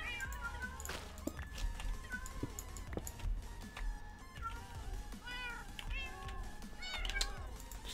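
Cats meow repeatedly inside a Minecraft game world, several rising and falling calls overlapping at close range over a steady low background hum, with no talking.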